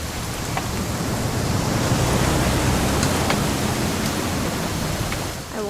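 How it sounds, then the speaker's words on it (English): Steady rain falls in the What Remains of Edith Finch video game, a dense even hiss with faint scattered patters, continuous and moderately loud throughout. "It's gonna rain the whole weekend,"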